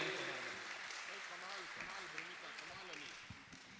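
An audience at a Hindi poetry recital for poet Hariom Panwar applauds in a steady, hissing wash that runs the whole time beneath a voice speaking over it.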